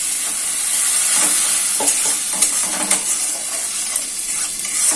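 Spice masala for a teltjhal tengra fish curry fries and is stirred in a pan, giving a loud, continuous hissing sizzle with repeated scraping strokes of a spoon and no talking.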